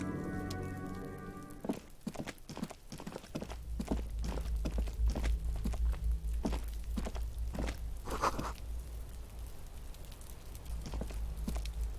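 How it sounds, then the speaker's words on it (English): Footsteps from the Disco Elysium video game walk from room to room, a series of distinct thudding steps at an uneven pace, with a low rumbling drone and rain-like patter underneath. "You hear someone inside, walking from room to room."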